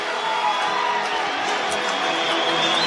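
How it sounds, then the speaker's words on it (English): A crowd at an AFL match between St Kilda and Fremantle gives the Saints players a warm round of applause, a steady wash of clapping and cheering from the stands. "So the Saints getting a warm round of applause from the faithful"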